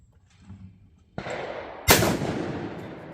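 Two sharp, loud blasts from a Browning A5 12 gauge semi-automatic shotgun, roughly three-quarters of a second apart, each followed by a short trailing echo.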